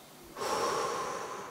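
A single forceful exhale during a breathing exercise: a brief quiet lead-in, then a long, close breath pushed out through the nose or mouth.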